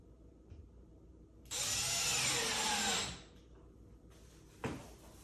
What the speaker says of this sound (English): In my back pocket here, I have the screws, and I'll simply secure this to the wall now.